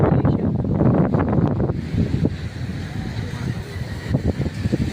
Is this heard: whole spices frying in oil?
no